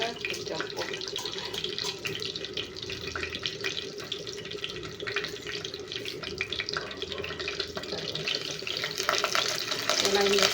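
Curry leaves crackle and sizzle in a hot pan, a continuous hissing fry with scattered pops and stirring scrapes, close up and growing slightly louder toward the end.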